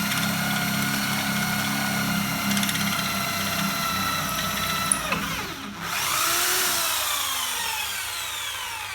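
A power drill whines steadily through an aluminium Shimano bicycle crank arm, with a grinding, shifting tone and a brief dip in pitch partway through, close up.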